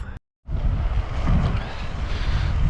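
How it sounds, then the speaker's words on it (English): Strong wind buffets the microphone outdoors beside an abandoned railway line, a steady loud roar with no voices after a brief silent gap at the start. "This wind is getting me down, a bit cold."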